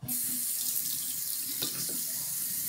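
A tap runs water into a sink for hand washing, a loud, steady close gush starting abruptly and continuing throughout, with a few faint clinks or splashes beneath the flow.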